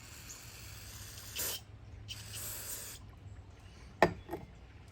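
Short bursts of spray hit dirty Stihl chainsaw parts during a repair: two broad hissing blasts, one brief and one longer, then a few small clicks and taps close by, with no talking.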